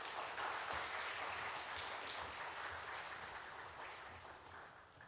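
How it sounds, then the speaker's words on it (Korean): Warm applause from a church congregation greeting a pastor at an early-morning revival service, a steady dense patter of clapping that holds throughout and fades slightly toward the end. "목사님께서 나오실 때 뜨거운 박수로 우리 맞이하도록 하겠습니다."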